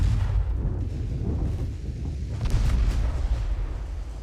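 Heavy warship broadside gunfire in the naval strategy game Ultimate Admiral: Dreadnoughts, with deep booming cannon blasts and rumbling rolling steadily through the clip at moderate loudness.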